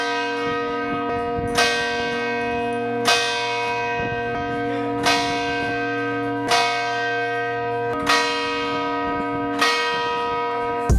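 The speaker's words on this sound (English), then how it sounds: "when the hour strikes, it is extremely loud and you are right underneath the bell" A church bell tower in Venice strikes the hour, heard from right beneath the bell: loud, ringing strokes about every one and a half seconds, each leaving a long, shimmering hum that overlaps the next.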